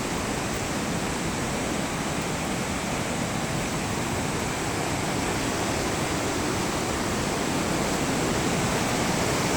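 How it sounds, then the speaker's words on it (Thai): A waterfall in Sekong, Laos roars as a steady, dense wash of broadband noise, loud and close and unchanging throughout, with no voices. "เป็นน้ำตก"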